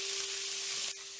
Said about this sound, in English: We're going to go ahead and stir fry this for a few seconds.